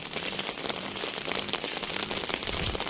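Rain falling steadily on a surface outdoors, a dense, close hiss of drops pattering evenly throughout with no talking.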